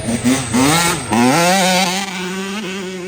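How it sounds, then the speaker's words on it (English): A motocross dirt bike at an amateur race revs hard and accelerates on the track. Its engine note climbs, dips and climbs again as the rider works the throttle, loud and close, with no talk over it. "Sounds like a bike on the gas."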